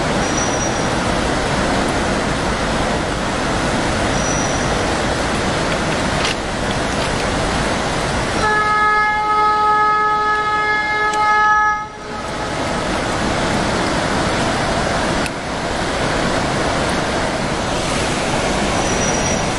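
A train rumbles steadily past near a waterfall en route to Goa, its long horn blaring for several seconds midway as the wheels and carriages keep roaring by.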